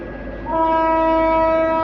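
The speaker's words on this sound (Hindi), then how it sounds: "लो भाई, हॉर्न भी लग गया भाई" A Gujarat Superfast Express train sounds its horn, a loud sustained multi-tone blast that starts about halfway through and holds steadily to the end over low station rumble.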